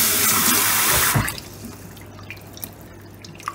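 Kitchen tap water runs steadily into a sink while carp fish eggs are rinsed, a loud full stream for about a second before easing to a quieter trickle with scattered drips.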